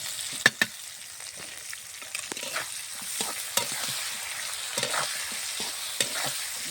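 Fish fry in hot oil with browned onions, a steady sizzle broken by frequent stirring scrapes and a few sharp utensil knocks against the pan.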